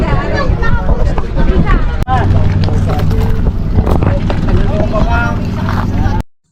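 A boat ride to Hundred Islands, Pangasinan, with a steady engine drone and rushing wind, while several people chatter and call out loudly over the noise.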